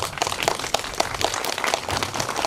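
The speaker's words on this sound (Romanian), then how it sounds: "Aplauze." A crowd applauds at a church consecration, with many hands clapping in a steady, dense patter for a couple of seconds.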